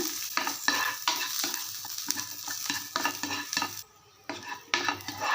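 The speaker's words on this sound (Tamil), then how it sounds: "பூண்டு தட்டி இதில் போட்டு அந்த பூண்டில் உள்ள அந்த ஈரணைப்பு போகிற வரைக்கும் இந்த எண்ணெயில் வதக்கிக்குங்க" Crushed garlic sautéing in oil, stirred for horse gram idli podi, makes a steady sizzle cut by rhythmic spatula strokes against the pan, with a brief near-silent pause before the stirring resumes.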